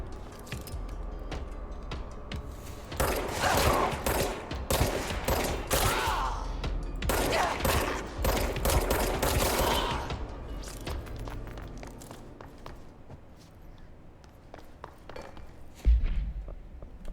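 Bursts of gunfire in the video game Control, loud rapid volleys clustered in the middle of the stretch, then fading to quieter scattered impacts and effects.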